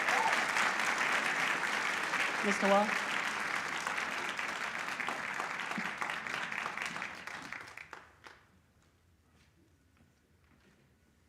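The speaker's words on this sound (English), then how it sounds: "Can you join me in giving this gentleman a round of applause?" Audience at a Howard County MLK celebration giving a gentleman a round of applause. Full, sustained clapping fills the hall, then tapers off quickly into near silence, with a brief voice heard as it fades.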